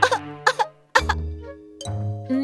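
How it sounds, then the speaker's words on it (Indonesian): Cartoon characters cough in short bursts, a few quick hacking coughs followed by a longer, tonal cough, with brief pauses between them. "Loh, kalian kok pada batuk semua sih?"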